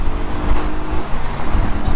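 An Audi S4 runs hard in a race, its engine a loud, continuous low roar heard close and steady throughout.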